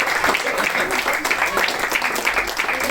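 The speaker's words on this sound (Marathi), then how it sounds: "जोरदार टाळ्या वाजल्या पाहिजे." A crowd at a prize-giving event applauds with dense, steady clapping throughout, while people talk over it.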